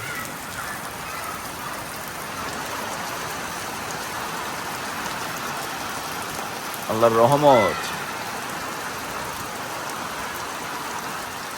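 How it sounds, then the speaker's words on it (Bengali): Steady rain falls over a village, a dense, even wash of patter that never lets up, with a short burst of a voice partway through. "বৃষ্টি পড়তেছে"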